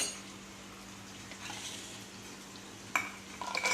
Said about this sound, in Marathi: आपल्याला हा कांदा छानपैकी लाल लाल होईपर्यंत परतून घ्यायचा